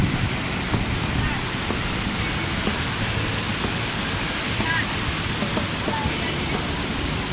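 Water flowing across a mountain road in Naltar Valley, a continuous broad rushing roar that stays steady and fairly loud throughout, with a faint vehicle hum beneath.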